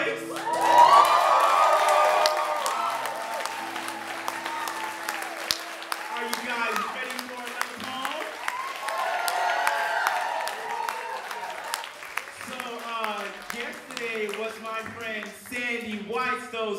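An audience at a poetry performance bursts into loud applause and cheering with whoops, then the clapping and crowd noise carry on steadily, mixed with voices, before thinning out.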